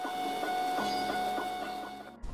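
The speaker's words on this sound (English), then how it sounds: "A 3D printer at work." A 3D printer at work, its stepper motors whining in steady tones with soft rhythmic pulses as the print head moves, close and continuous, ending in a brief low bump.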